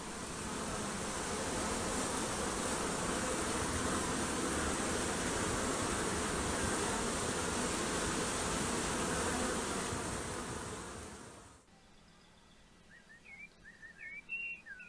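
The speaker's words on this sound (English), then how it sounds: "the buzzing of bees" Dense, continuous buzzing of many bees in a country churchyard fills the air for about ten seconds, then cuts off, leaving quiet with a few bird chirps.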